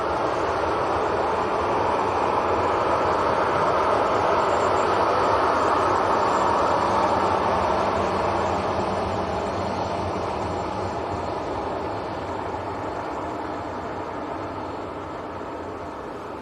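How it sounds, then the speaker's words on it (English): A Ryanair Boeing 737-800 jet at Leeds Bradford Airport gives off a loud, continuous broadband roar of engine noise that holds steady and eases slightly toward the end, with no talking. "Ryanair making a bit of noise there."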